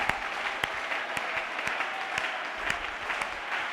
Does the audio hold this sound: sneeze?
no